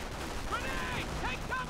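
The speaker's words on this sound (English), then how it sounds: "Machine guns. Let's keep firing at these guys." Machine gun fire in the WWII strategy game Company of Heroes, at the Battle of Carentan: a steady, dense crackle of gunfire runs through the whole short stretch, with faint whistling tones drifting above it.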